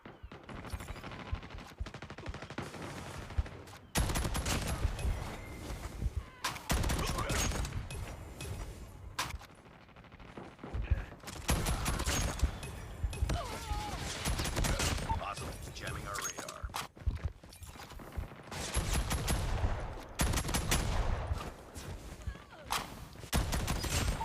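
Rapid submachine gun fire from a USS 9 (VMP) in a first-person shooter video game, in repeated loud bursts separated by brief pauses, with other game sounds and faint voice audio in between.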